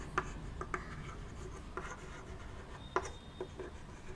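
Quiet scratching and tapping of writing on a board during a math lecture, a few short strokes and taps spaced irregularly against faint room hiss.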